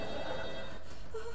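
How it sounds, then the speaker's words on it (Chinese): A telephone bell ringing faintly in a neighbouring flat, a muffled distant ring heard indoors at night, with a brief tone near the end. "电话铃儿。"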